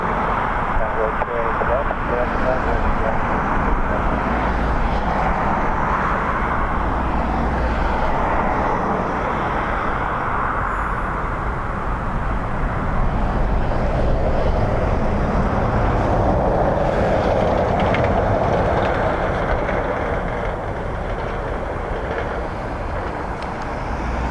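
A jet airliner landing on runway 28 left at Dublin Airport in windy weather, heard as a continuous loud engine roar and rushing wind noise across the whole stretch with a voice talking over it.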